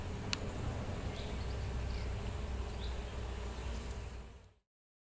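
Bee in flight, a continuous low droning buzz held at moderate level for several seconds before cutting off abruptly into silence.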